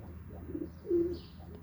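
Soft tumbler pigeon coos, a couple of low throaty calls close by in a quiet setting, the second one a bit louder.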